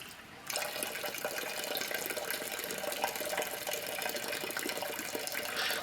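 Water running steadily from a spring water station at a Japanese hot spring site, a constant close splashing flow that starts abruptly and continues alone without talk.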